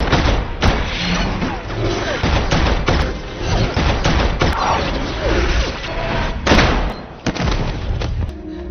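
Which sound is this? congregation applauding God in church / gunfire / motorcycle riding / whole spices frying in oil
gunfire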